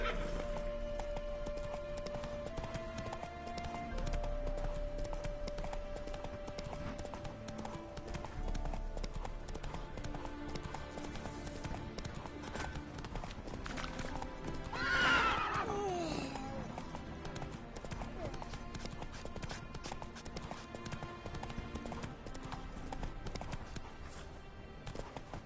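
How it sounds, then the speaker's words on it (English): The horse Roach from The Witcher 3 video game clip-clops at a steady gallop under game music, with a loud whinny around the middle; a voice speaks over the hoofbeats. "Whoa there, Roach."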